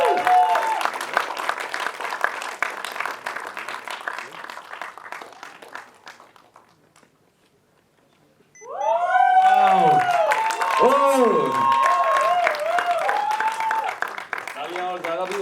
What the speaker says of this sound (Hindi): तालियां और ज्यादा भी हो सकती है।